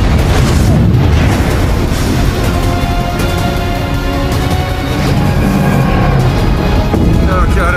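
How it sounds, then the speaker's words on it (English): Space shuttle solid rocket booster separation rendered as a heavy, sustained roaring blast, loud and close, with a dense rumbling wash that holds steady throughout and no words spoken. "Go for SRB separation."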